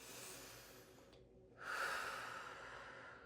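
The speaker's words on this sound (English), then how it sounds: "take a nice, easy breath" A single slow, easy breath drawn in and let out close to the listener, soft and airy with a brief quiet gap before a fuller exhale, no talking.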